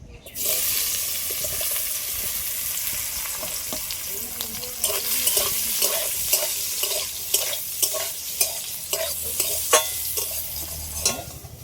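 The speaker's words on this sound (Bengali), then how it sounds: "কড়ার মধ্যে তেল দিয়েছি তেলটা গরম হয়ে গেছে আর আগে দিয়ে বেগুন এরকম ছোট ছোট করে কেটে হালকা করে লবণ আর হলুদ মাখিয়ে রেখেছিলাম এটা দিয়ে দিচ্ছি" Small pieces of eggplant coated with salt and turmeric sizzle steadily in hot oil in a kadai, with repeated stirring clinks and scrapes over a constant, fairly close frying hiss.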